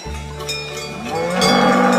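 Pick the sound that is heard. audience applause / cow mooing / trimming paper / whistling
cow mooing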